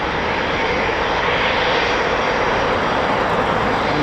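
An RAF Typhoon FGR4 jet, a loud, steady broadband engine roar that fills the air without pause, heard from outside at an air station.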